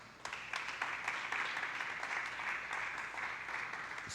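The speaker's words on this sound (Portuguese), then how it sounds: "Dá um aplauso a Jesus aí." A church congregation bursts into applause after a sermon, with the clapping starting abruptly and holding as a dense, even patter of many hands for about four seconds. No one speaks over it.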